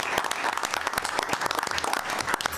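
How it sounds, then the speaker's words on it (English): An audience at a high school board of education meeting gives a round of applause: dense, steady clapping from many hands that fills the whole moment, close and fairly loud. "One more round of applause for Caitlin."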